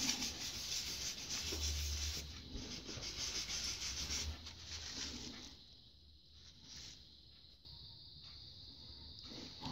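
Cloth scrubbing old thermal paste off a PlayStation 3 chip, a steady close-up rubbing and wiping that eases off partway through, with no talk.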